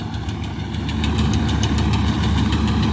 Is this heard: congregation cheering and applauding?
no